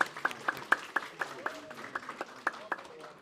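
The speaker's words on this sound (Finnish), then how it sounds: "Annetaan vielä Hassonille ja Grasiakselle aivan valtavat aplodit." Rhythmic clapping from a modest audience at a project's closing event, evenly spaced claps in a steady beat with voices murmuring underneath.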